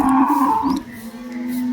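A single cow moos loudly and close by, a low drawn-out call that trails into a steady hum.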